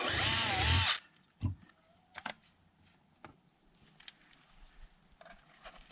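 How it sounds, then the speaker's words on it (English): A power drill drilling a screw hole whirs loudly for about a second and stops, followed by quiet, scattered clicks and handling noises. "we'll drill the other screw hole"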